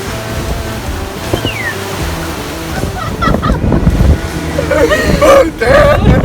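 A huge ocean wave crashes and splashes over the helm of a sailing catamaran in rough seas, a loud surging burst of water with excited voices reacting over it.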